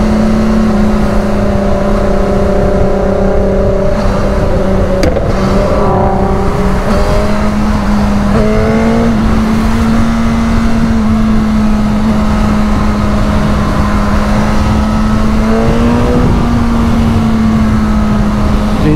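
A Nissan GT-R's loud exhaust drones and revs steadily as it passes on a road, with pitch swells and brief gear changes heard close up through heavy engine noise.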